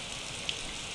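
Steady rain in the Survive wilderness survival game falls as an even, close hiss that holds throughout, with one small tick near the middle and no voices.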